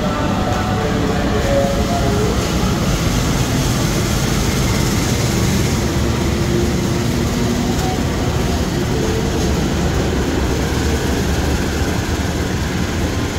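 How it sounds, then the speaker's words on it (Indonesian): A CC206 diesel locomotive at a busy Jakarta railway station, a loud, steady engine rumble and rolling train noise close by that runs throughout. "Ayo tebak panggilan lokomotif CC206 1323 teman-teman."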